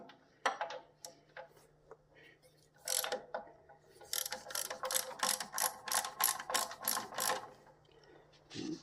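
Ratchet wrench removing bolts, heard as bursts of quick close clicking with short pauses between turns and a faint steady hum underneath, no talking.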